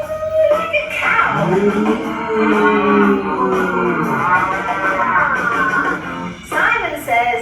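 Several children's voices draw out a long, wavering moo in imitation of a cow during a classroom game, loud and close, overlapping for several seconds.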